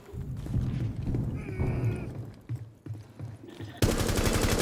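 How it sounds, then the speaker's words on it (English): A cluster charge detonates in Rainbow Six Siege, a rapid string of sharp blasts and thuds over game noise, ending in a loud dense burst of gunfire-like cracks. "Detonating cluster charge."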